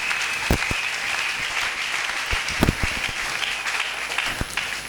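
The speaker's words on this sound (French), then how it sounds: "Acclamez le Seigneur. Betela ye maboko." Church congregation clapping in praise during a bilingual French and Lingala worship service, a sustained wash of hand claps with sharper individual claps popping out, steady and close throughout.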